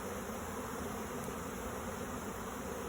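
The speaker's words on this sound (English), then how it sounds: "And the bees are instinctively fanning on top of the box." A swarm of honeybees fans on top of a hive box. Their close, continuous buzzing drone holds steady throughout with no talking.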